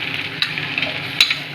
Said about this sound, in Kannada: ಟೊಮೊಟೊ ಹಾಕಿ ಪೂರ್ತಿ ಚೆನ್ನಾಗಿ ತಿರುಗಬೇಕು